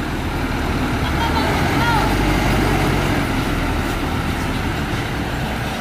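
A double-decker bus of the Almasar line on Sumatra reverses into a parking spot, a loud, steady diesel rumble close by while someone talks over it.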